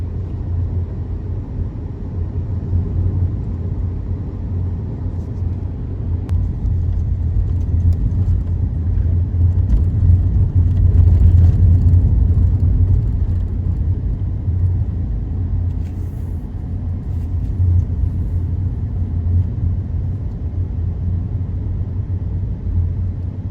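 Steady low engine rumble and road noise from inside a car driving on a town road at about 50 km/h, continuous and fairly loud throughout with no talk.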